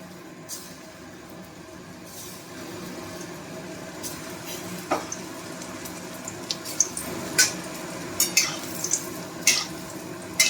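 Pieces of chicken for dry chilli chicken go into hot oil with a low, steady frying sizzle, while sharp clinks and taps of utensils against the pan grow more frequent.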